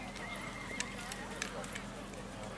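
Horse at a high school rodeo, with a brief whinny and faint hoof clatter heard over a steady arena crowd murmur and an announcer's voice.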